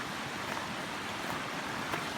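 A small creek on a walking trail in historic Hawkins County, Tennessee, rushing and washing steadily with a broad, even hiss of flowing water that stays constant throughout, with no voices.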